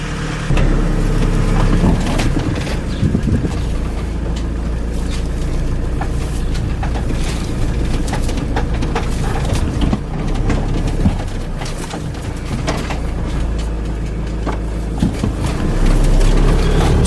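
A RAM ProMaster 3.0L van drives out of a repair shop. Its steady engine rumble and rolling noise carry throughout, with scattered clunks and knocks close by.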